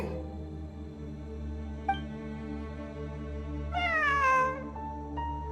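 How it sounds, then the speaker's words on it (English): A cat meows once in a video game, a drawn-out, clear mew with a falling pitch rising over a steady background music drone, then fading away. "I'm not hearing things. It really is a cat."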